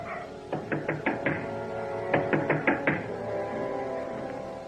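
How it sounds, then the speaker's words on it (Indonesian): Knocking on a house door, two bursts of about five quick, firm raps each, separated by a short pause, close and clear over a quiet background. "Apakah tamu yang mengetuk pintu ini makhluk halus itu?"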